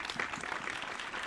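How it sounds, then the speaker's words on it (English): Hands clap briefly during a studio interview, a quick burst of dense claps lasting about a second. "Gotta give you a clap, man."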